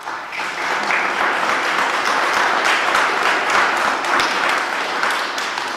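A conference audience at a keynote talk breaks into sustained applause, a dense, even wash of many hands clapping that holds steady for several seconds, with no talk over it.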